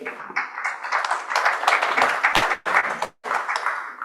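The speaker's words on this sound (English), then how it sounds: "Let's please welcome them with your applause" An audience claps to welcome a panel at a security conference and awards event, with broadband bursts broken by brief dips near the end and no talk over it.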